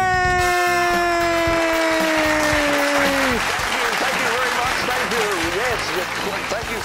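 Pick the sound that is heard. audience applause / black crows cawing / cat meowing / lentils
audience applause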